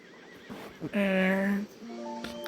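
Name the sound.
horse neighing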